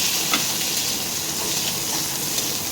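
Rice frying in oil with ginger, garlic and chopped green chili gives a steady, close hiss and sizzle, with a few faint stirring scrapes.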